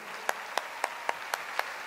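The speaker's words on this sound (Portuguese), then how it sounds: "as palmas para Jesus," A church congregation claps in unison during a worship service: seven crisp, evenly spaced claps about a quarter second apart, fairly faint against a quiet room.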